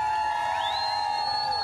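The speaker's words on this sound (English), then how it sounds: "and the crowd cheered" A street crowd cheers in Kailua as a presidential motorcade arrives, a steady roar of voices with a shrill whistle rising sharply partway through; brief and fairly loud.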